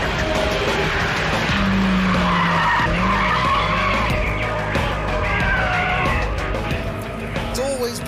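A Honda Civic EP3 Type R hot hatch drives hard with loud tire squeal and skidding over a roaring engine, continuous and close, with some talk mixed in.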